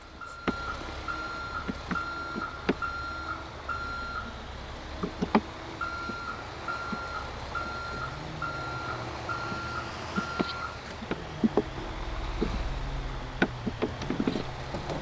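A truck's reversing alarm beeps in a steady repeating rhythm within a GTA roleplay game, moderately loud over a low rumbling engine and scattered clicks and thumps.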